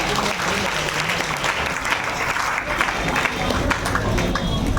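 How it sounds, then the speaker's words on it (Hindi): An audience at a business gathering breaks into loud, sustained applause, with dense clapping and crowd noise running throughout and voices mixed in underneath. "तो इनके लिए जोरदार ताली होगी"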